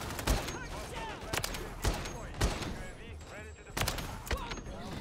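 Rapid bursts of gunfire from a first-person shooter match, sharp repeated shots in irregular clusters with game sounds and possible voice chat running underneath throughout.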